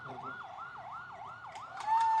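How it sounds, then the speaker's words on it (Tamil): An ambulance siren cycles in a smooth up-and-down wail at a crowded political rally in Salem, Tamil Nadu, close and prominent, with a brief horn-like tone cutting in near the end. "ஆம்புலன்ஸ் அப்படியே கொஞ்சம் வழி விடுங்க"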